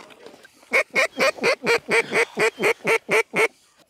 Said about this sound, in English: Ducks, ducks, ducks, ducks.